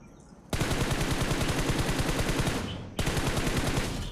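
Automatic gunfire rips through a fight in the mobile battle royale game BGMI, with two loud, rapid bursts of shots, the first lasting over two seconds and the second following after a brief gap.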